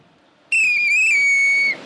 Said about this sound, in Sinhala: විසිල් එක ගහන ගමන් අත දාන්න.